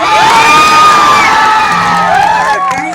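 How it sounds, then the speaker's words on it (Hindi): A large outdoor crowd at a Bhojpuri music show in Buxar cheers loudly, with shouts and whoops over a dense roar, likely mixed with clapping, sustained for the full stretch and easing slightly near the end. "एक बार जोरदार ताली कर लो"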